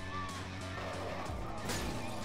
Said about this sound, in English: Look, I keep smashing my bottles.